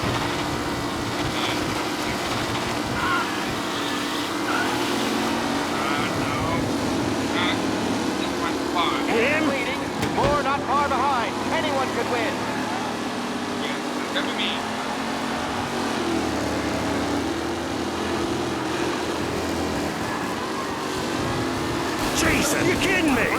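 Race cars roar around a track in the Mafia game race, engines droning steadily and revving as cars pass, loud and continuous with a voice talking over them.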